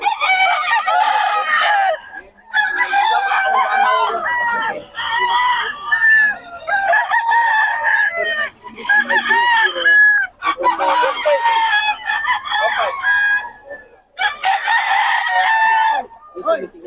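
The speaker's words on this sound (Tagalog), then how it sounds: "Ganda ng mga manok ni Boss Batang" Several roosters at a market in Bocaue crow loudly and close by, one call after another with clucking in between, filling the whole stretch with overlapping bird calls.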